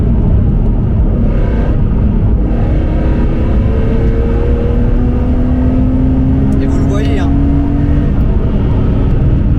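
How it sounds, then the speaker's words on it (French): A modified BMW CSL drives along a road and takes corners, its engine a loud, steady low rumble with road roar throughout while someone talks over it. "La voiture prend les virages"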